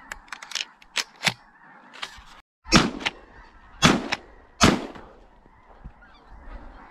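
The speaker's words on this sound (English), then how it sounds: "Yeah, baby ducks." Waterfowl call during a duck hunt, with sharp honking bursts coming in irregular clusters at moderate distance over quiet outdoor air and no talk.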